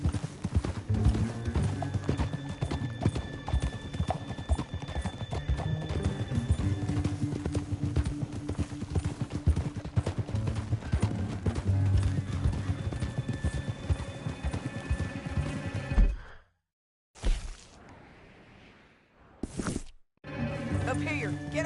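Horse hooves clip-clop steadily and close while riding through a canyon in Red Dead Redemption 2, with an occasional whinny, then cut off in brief silent gaps near the end.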